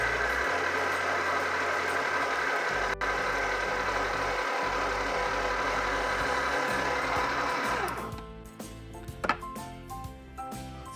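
A Nostalgia slush machine runs loudly while dispensing, giving a steady, dense mechanical grind and hum that fills the first eight seconds, then drops away to quieter clatter and rattles.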